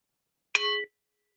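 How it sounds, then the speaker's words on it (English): A meditation bell is struck once to open a session: a single bright, ringing ding that starts sharply and fades within a fraction of a second, quiet and alone in silence. "I will ring the bell to get us started"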